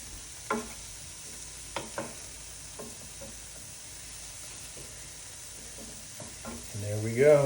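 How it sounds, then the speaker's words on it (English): Onions and garlic fry in a pan for chicken enchiladas with a steady close sizzle, while a utensil scrapes and stirs in occasional sharp strokes, and a voice briefly comes in at the end. "In goes the garlic. Cook that till it's fragrant. Give it a spin."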